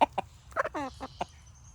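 Dusty the rooster gives a string of short, close clucks and one longer drawn-out call on a quiet farm morning.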